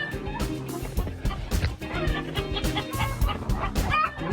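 Frightened chickens cluck and squawk in rapid, overlapping bursts just after a lynx attack, several birds calling at once at moderate distance with an agitated, uneven rhythm.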